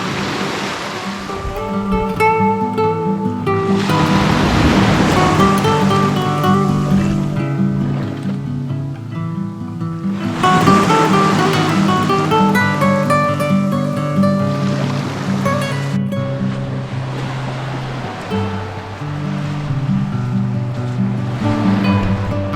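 Sea waves wash continuously onto a white sand beach on Samal Island, with loud, rolling surf swelling and receding in several broad surges, with no voices heard.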